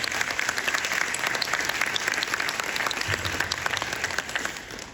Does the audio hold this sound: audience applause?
yes